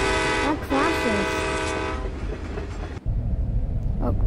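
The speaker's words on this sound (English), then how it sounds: "The train again? That crashes." Train horn blaring with rumbling rail cars in a Poppy Playtime chapter 3 fan trailer, the horn sliding in pitch before a sudden cut to heavy clattering noise.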